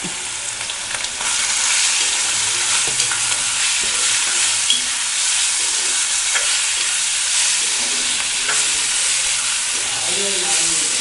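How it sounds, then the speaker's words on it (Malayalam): Prawns fry in hot oil with garlic for a Malabar-style prawn curry, giving a loud, continuous sizzle with a spatula scraping and stirring the pan at intervals. "ചെമ്മീൻ നല്ലതുപോലെ ഫ്രൈ ചെയ്തെടുക്കുക."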